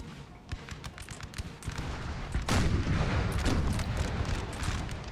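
Artillery fire in Napoleon Total War, a Bohemia battle against Austrian forces: a dense rumble of cannon booms and musket crackle, with one big blast midway and steady battle noise throughout.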